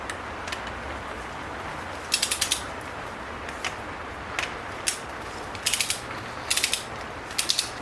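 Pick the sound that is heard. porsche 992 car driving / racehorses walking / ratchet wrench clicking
ratchet wrench clicking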